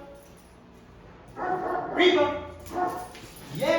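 A female dog gives short yips and whimpering barks in a few separate bursts, close by, while someone talks and calls out to her encouragingly between and over them.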